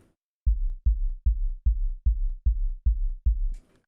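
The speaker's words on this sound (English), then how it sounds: "That's for the sine wave kicks." Pitched-up sine wave kick drum from the LittleBigPlanet music sequencer, hitting eight times in a steady even rhythm, each hit a deep booming thump with a short sustain, loud and isolated, ending with a brief noisy burst.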